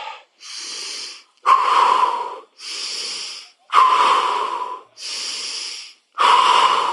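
Heavy breathing after a full-body strength and conditioning workout: seven loud, close breaths in steady alternation, with breathy wheezing exhales and sharper, louder intakes, and no talk.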